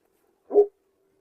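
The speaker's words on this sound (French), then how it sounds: "Le chien Sandal, on entend sa voix là d'où il vient, il nous regarde de loin." Sandal, a dog, gives a single short bark from a distance in otherwise near silence.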